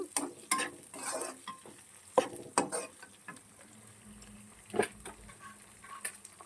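An egg fries in a pan with a quiet crackling sizzle, broken by several sharp spatula scrapes and clicks at irregular moments, no talking.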